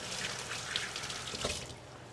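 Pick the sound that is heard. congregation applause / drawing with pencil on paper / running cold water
running cold water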